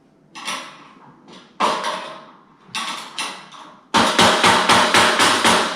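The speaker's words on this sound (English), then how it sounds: "you bust out the hammer to put in one screw" Sharp hammer strikes on a metal screw being driven into a desk: three separate blows, then a fast run of about six rhythmic hits, loud and close.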